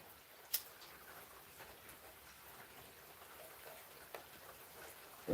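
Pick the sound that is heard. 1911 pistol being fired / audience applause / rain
rain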